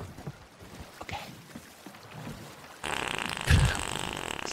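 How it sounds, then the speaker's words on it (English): A loud, close fart blown straight into a microphone during a Sea of Thieves game session, a sudden rumbling burst that cuts in after quieter background noise. "Stop farting in the mic."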